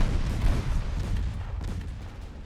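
Rumbling naval gunfire from 4-inch secondary guns on warships in a game battle, dense overlapping booms and continuous low-end roar throughout, loud with no speech.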